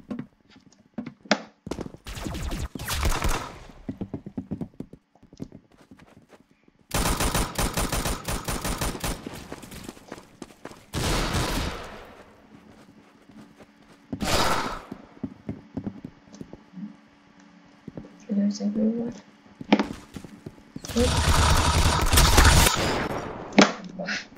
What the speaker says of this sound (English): Oh, I got this is a Russian gun. This looks like a drum gun.